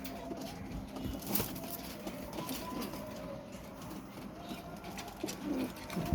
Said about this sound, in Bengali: এই দেখুন পায়রাগুলো সেই স্ট্যান্ডিং হয়েছে